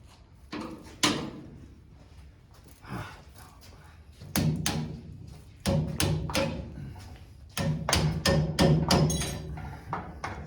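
A hammer drives a pin through a lift part on a 1985 Chevrolet Silverado, landing in bursts of sharp metallic blows, several strikes in quick succession after a few isolated knocks.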